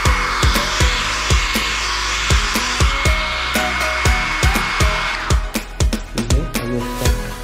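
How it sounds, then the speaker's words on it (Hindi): A hair dryer blows steadily and close while drying a beagle puppy after its bath, its whirring drone broken by regular soft thumps and pulses as the airflow shifts. "अभी उसका ड्रायर का काम हो गया"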